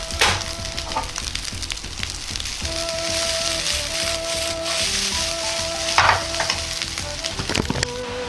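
Fried rice with scallion oil sizzles steadily in a hot pan as it is stirred and tossed, with occasional scraping clicks of a utensil.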